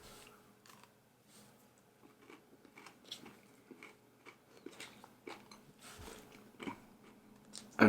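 Crunchy bites and chewing on a chocolate protein snack bar with crisp biscuit pieces on each side of a soft, chewy slab, heard as close, irregular crackles and crunches at a modest level with no talking.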